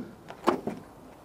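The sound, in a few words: Toyota Hiace wagon luggage door being opened by hand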